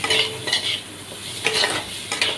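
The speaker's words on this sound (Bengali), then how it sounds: "আমি আলুগুলো দিয়ে তার মধ্যে একটু নেড়ে, তার মধ্যে হলুদ, একটু লঙ্কার গুঁড়ো ভালো করে দিয়ে ভালো করে নেড়ে নিলাম।" Potatoes stir in a frying pan with turmeric and chili powder. A utensil scrapes in loud repeated bursts over a soft, constant sizzle.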